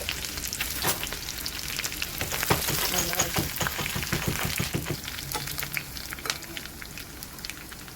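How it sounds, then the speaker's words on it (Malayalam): Mustard seeds tempering in hot oil for a Bengali dahi baingan dish, a dense steady sizzle with scattered sharp pops and crackles running close and continuous throughout, no voices. "എന്നിട്ട് കടുക് താളിക്കാം."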